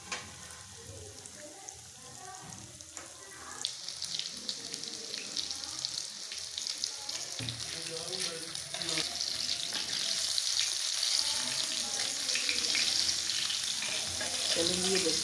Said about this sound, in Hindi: शैलो फ्राई करना है हमने, डीप फ्राई नहीं करना